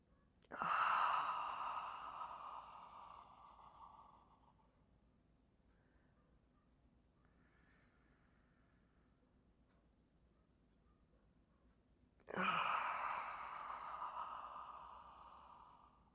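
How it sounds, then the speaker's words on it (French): During a fitness exercise, two long, audible breaths come through close and clear, each rising sharply and fading over several seconds, with a quiet gap in between. "On inspire."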